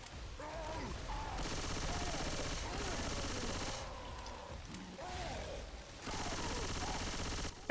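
Rapid automatic gunfire bursts from a shooter video game, loud and sustained with short gaps, under the faint voices of players talking.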